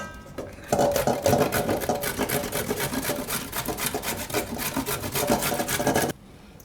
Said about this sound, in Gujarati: આપણે ગાજરે આપણે આ રીતે છીણી લીધું છે, કોબી ને ગાજર બે.